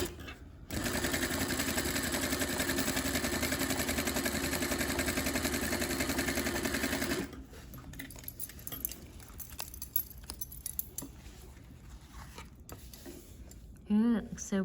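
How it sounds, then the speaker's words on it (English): A sewing machine stitches a small rolled hem in a loud, steady whirring run of about seven seconds. Quieter rustling and handling noises follow, with a short burst near the end. "then I just push as I sew"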